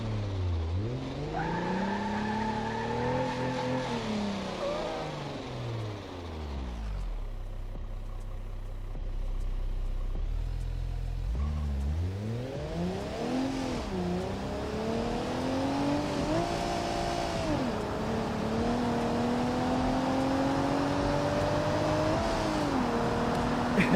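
Car engine in the BeamNG driving game, revving up and down through gear changes with rising and falling tonal whine, a brief lull near idle midway, then climbing steadily again at a loud, close level with no talking.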